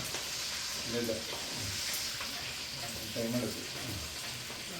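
Pork frying in a clay pot on a wood-fired hearth, a steady crackling sizzle with faint popping splatters, fairly quiet, with soft voices in the background.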